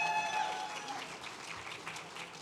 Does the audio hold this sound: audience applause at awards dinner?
yes